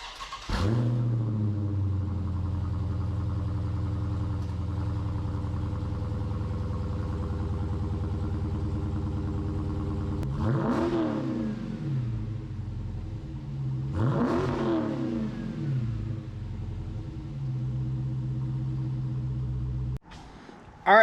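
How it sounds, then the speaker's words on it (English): Brand new Dodge Challenger on its stock exhaust idles with a steady low rumble, then two sharp revs rise and fall before settling back to idle, close and without talk. "let us know what you think about how this exhaust sounds stock"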